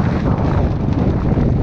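Wind blowing across the Scottish Highlands along the West Highland Way, with a loud, continuous, low rumbling gust buffeting close against the microphone with no pauses.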